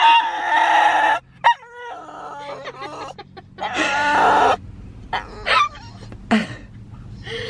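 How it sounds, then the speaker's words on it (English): Several sharp barks and yelps come in short bursts with pauses between them, loud and close, with no talking. "That's how a normal dog barks."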